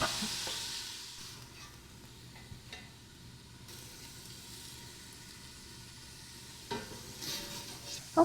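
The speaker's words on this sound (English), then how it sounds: "Hear that sizzle? That's what you need, and don't put too much in here." Meat browning in a pot for chili, seasoned with a red wine mixture, sizzles steadily and fairly loudly with a constant frying hiss and a few brief stirring knocks, with no voices.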